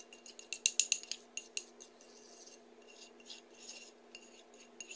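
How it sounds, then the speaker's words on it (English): A utensil stirs Chex Mix seasoning in a bowl, giving quick rattling, scraping clinks that are dense at first, then thin out into softer, sporadic scrapes. The sound is close and fairly quiet, with no talking. "And I stir it up in here."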